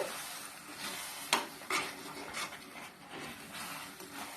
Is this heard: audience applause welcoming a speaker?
no